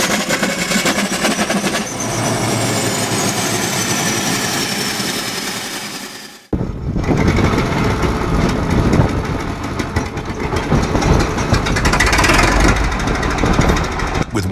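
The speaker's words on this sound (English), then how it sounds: "Turn on the switch, let the engine warm up and stabilize, and keep an eye on it as it reaches steady speed." Engine of a 108-horsepower, 13-ton Soviet-era bulldozer: a loud, steady running drone cuts off abruptly partway, then a harsher, rougher engine roar resumes and runs to the end, near and without talk.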